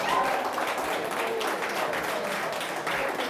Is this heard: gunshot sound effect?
no